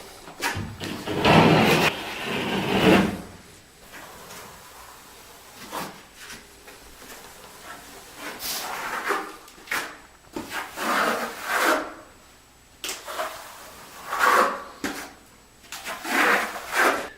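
A trowel skim coats a floor over a thin WarmTiles Elite heating mat, making repeated rough scraping and rubbing strokes in uneven bursts, loud and close, with short pauses between passes and no talking.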